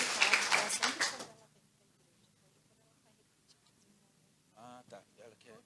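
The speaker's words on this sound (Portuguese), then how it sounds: "Vamos aplaudir os aniversariantes" Church congregation applauding birthday celebrants, a brief burst of scattered hand claps that fades within about a second, followed by quiet and a voice speaking.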